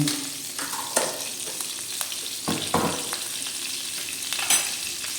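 Star margarine sizzles and fries in a hot pan, a steady close crackling hiss with occasional stirring scrapes and no voices.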